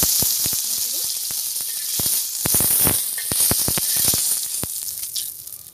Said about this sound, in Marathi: आता आपण तव्यावर तळून घ्यायचे आहे आपल्याला.